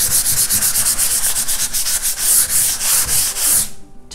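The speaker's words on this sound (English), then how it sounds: "I'm going to gently rub and sand back that mud" A rad pad sanding back dried raised-stencil mud, a steady close rasping rub in rhythmic strokes for about three and a half seconds before stopping abruptly.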